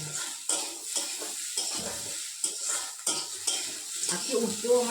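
Food frying in a heated pan while being stirred, with repeated scraping and clinking utensil strokes over a light sizzle, close and moderately loud, no speech.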